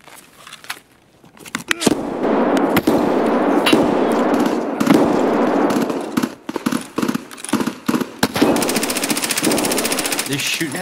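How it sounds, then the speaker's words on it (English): Rapid automatic gunfire crackles through a firefight in Escape from Tarkov, sustained bursts with sharp cracks and clangs, loud and close, while players talk over it. "They're shooting at you from under the thing?"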